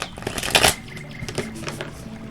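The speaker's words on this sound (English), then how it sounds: "Give it a good shuffle here." Tarot cards being shuffled by hand at close range, a quick crisp riffle burst early on followed by softer, sparse flicks and taps of the deck.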